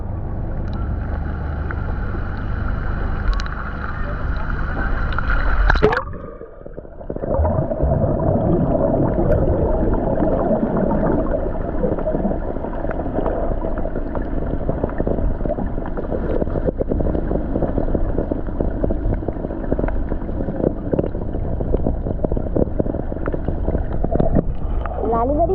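A speed boat motors across open water with a steady, loud engine roar and rushing wind buffeting the microphone, briefly dipping near the start before continuing; people talk over the noise.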